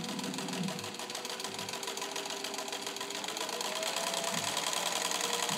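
A restored Singer 15-91 sewing machine stitching at high speed, producing a loud, steady, rapid mechanical hum and chatter with a regular fast pulse, close and uninterrupted.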